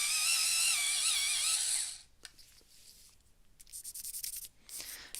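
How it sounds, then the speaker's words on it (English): A pencil is sharpened with a loud, close, steady grinding scrape for about two seconds, then stops, followed by quieter scratchy taps and rustling of paper. "Sharpen my pencil."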